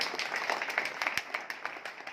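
Audience applause at a Safe Shop business plan meeting: a dense, steady wash of many hands clapping at moderate distance, with brief louder claps standing out, and no talk over it.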